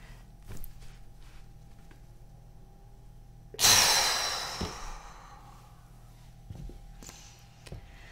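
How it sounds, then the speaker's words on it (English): A person tenses their muscles and then lets them go with one long, audible out-breath that swells suddenly and fades over about a second, framed by quiet room noise and faint small movements. "Tense all of your muscles as hard as you can for about 10 seconds or so. Then let them all go while breathing out."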